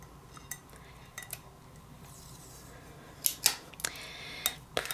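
Sublimation tape and paper are pulled off a still-warm 2-ounce mug after pressing, giving a few sharp crackling rips near the end over a quiet room hum.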